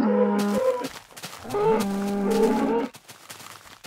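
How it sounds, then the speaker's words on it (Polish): Minecraft cows moo in a few drawn-out, tonal calls, close and clear, with short pauses between them and no talking. "Oczywiście głupie krowy."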